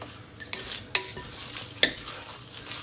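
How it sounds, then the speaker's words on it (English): Batter is stirred in a pan, giving a soft frying hiss beneath a few sharp metallic clinks and scrapes of a utensil against the pan, close and fairly quiet, with no talking. "And then you're gonna give it a nice stir."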